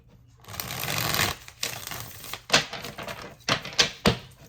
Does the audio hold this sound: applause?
no